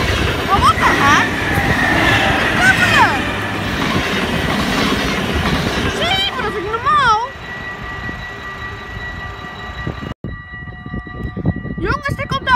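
A train passes close by in Roermond, a loud sustained rumble with clattering wheels and high squealing tones that fade to a quieter hum. Voices talk over it.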